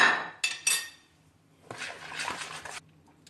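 Garam masala marinade for Lahori fried fish being mixed in a bowl: a couple of sharp clinks of a spoon against the dish, then a stretch of wet, scraping stirring that fades out.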